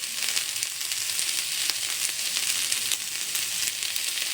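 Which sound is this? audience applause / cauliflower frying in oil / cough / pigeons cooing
cauliflower frying in oil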